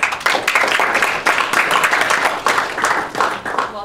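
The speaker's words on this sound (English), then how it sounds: "let's give him a round of applause" A small audience at an impact investing careers panel claps for a panelist. The applause is sparse and uneven, with individual hand claps standing out in an irregular, close-up rhythm for a few seconds.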